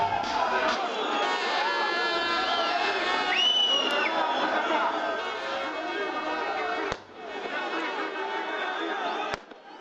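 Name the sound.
protest crowd trying to break police cordon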